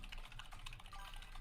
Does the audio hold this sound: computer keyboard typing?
yes